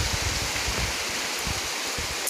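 Steady rain pours over a rice field, a dense continuous hiss with soft low patters close by, no voices.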